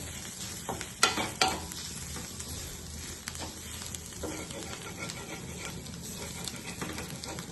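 Green chilli thecha sautés in a little oil, a quiet steady sizzle broken early by a couple of sharp utensil clanks and scraping stirs.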